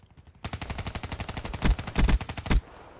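Rapid automatic gunfire in Call of Duty Black Ops 3 multiplayer, a steady chattering burst of shots with three heavier, louder volleys near the end, close and dominant with no talking.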